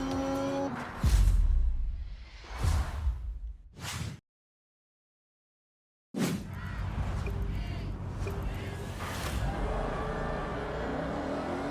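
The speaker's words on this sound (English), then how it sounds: "Two muscle cars on the mountain, what could go wrong?" Two muscle cars race on a mountain touge road in Forza Horizon 6, their engines roaring and revving loudly, cutting out abruptly to silence for about two seconds before a steady engine drone returns.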